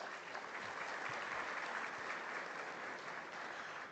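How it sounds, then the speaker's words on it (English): Steady, dense applause from a conference audience in Namibia, sustained evenly for the whole stretch with no voices above it. "Let's give them a round of applause."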